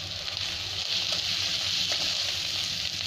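Masala, chilli powder, coriander powder and salt sizzling steadily in hot oil for hotel-style egg fried rice, a continuous close hiss with no pauses.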